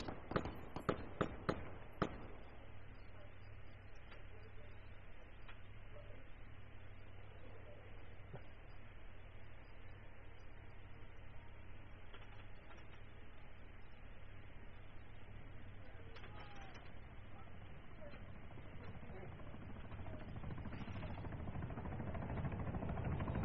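Weapons fire in Arma 3 during an artillery strike: a quick cluster of sharp cracks at the start, then a steady low rumble with faint distant thuds that swells louder toward the end.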